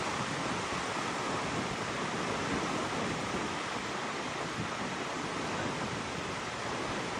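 Ocean surf at a beach near Legoland in Carlsbad, California, rolling as a steady, dense roar of breaking waves that stays constant and loud throughout, with no voices.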